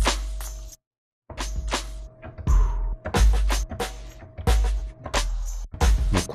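A drum sample from the first pad of a sampler, pitched to 90 BPM, plays a choppy beat with a vinyl-like character. It has punchy kicks and crisp hits and a brief silent gap near the start.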